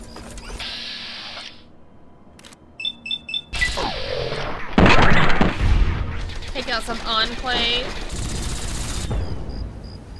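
Turret gunfire in Fallout 3, sharp bursts of rapid shots mixed with mechanical clatter and game effects, loud and close, with a voice talking over parts of it.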